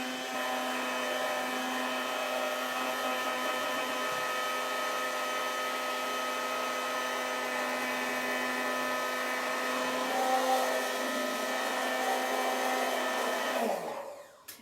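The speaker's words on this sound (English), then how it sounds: "So while I'm blending it, see how this is moving around?" A blender whirs steadily, blending vegan coleslaw dressing as oil is drizzled in, a constant motor hum at moderate level that cuts off abruptly near the end, with no talking.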